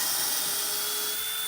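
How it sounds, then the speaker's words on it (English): A steady, high-pitched drill whine grinds on without a break as it bores through quarter-inch steel, loud and close, with a faint tonal hum running underneath. "The steel we're drilling through is 1/4 inch thick."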